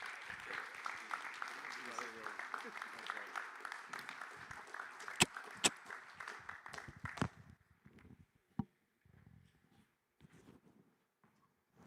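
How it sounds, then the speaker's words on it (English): Audience applause at a conference main stage, a steady wash of clapping over the first several seconds that thins out into a few scattered claps and sharp knocks before dying away. "Can we get a huge round of applause for Pablo?"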